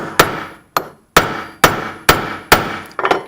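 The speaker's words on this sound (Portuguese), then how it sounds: "então você vai bater com essa ferramenta aqui daí. Vou bater ali." Sharp metallic hammer strikes drive a tool against the rear wheel bearing of a Yes 125 motorcycle, six loud close blows at a steady rhythm with brief ringing decays.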